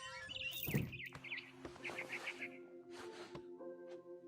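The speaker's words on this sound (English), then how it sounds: "Then I heard chirping outside my window. It was a barn swallow going back to her nest." Short chirps of a barn swallow in a video game, a few quick warbling calls heard near, mixed with game sounds and background noise, with no talking.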